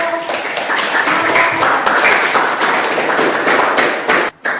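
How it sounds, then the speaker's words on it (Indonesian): Students in a classroom clap together in a steady, dense patter that runs for several seconds before briefly dropping out near the end. "Berikan tepuk tangan"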